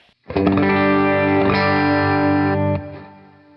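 An electric guitar chord rings out clean and full through an amp, sustaining for a few seconds before fading away.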